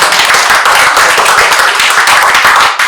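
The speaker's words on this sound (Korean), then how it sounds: "박수 부탁드립니다." Loud, dense applause from an audience fills a gathering at a supporters' meeting and exhibition opening, with steady rapid clapping that carries on for the full three seconds without a break.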